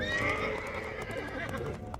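A spooked horse whinnying on a road in a tense drama scene, a drawn-out neigh over a dense, busy background, fairly close but partly masked.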